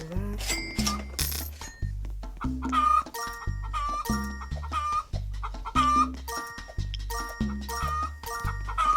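Chickens on a chicken farm clucking loudly and close, repeated rhythmic bursts of clucks and squawks filling the whole stretch with no talk.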